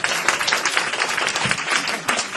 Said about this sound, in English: Can we just give him a clap today?